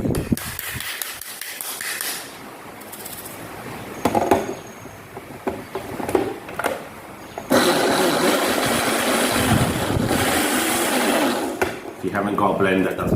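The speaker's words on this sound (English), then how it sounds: "Stick it in the old blender." A 3-in-1 kitchen blender whirs in loud motor bursts, starting and stopping several times before a longer sustained run, close by, with a person talking in between the pulses.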